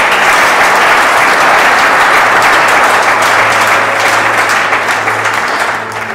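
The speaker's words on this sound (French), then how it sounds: "Est-ce qu'on peut acclamer le Seigneur?" Church congregation applauding and cheering in praise during a sermon, a dense, steady wash of clapping that holds loud for about six seconds before easing slightly at the end.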